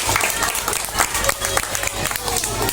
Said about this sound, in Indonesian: beri tepuk tangan yang iya